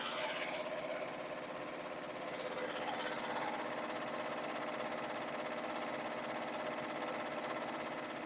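An embroidery machine stitching an awareness ribbon angel design hums and whirs steadily at close range with a fast, even rhythmic buzz, without talking.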